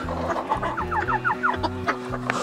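Serama chickens, including a broody hen, cluck in quick rhythmic bursts close by, with a low droning machine hum underneath.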